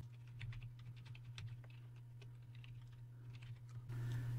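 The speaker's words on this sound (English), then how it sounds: "you want to type in javascript.enabled." Keys clacking on a computer keyboard as a search entry is typed into a web browser on a PC, a steady run of close, light taps over a low constant hum that swells near the end.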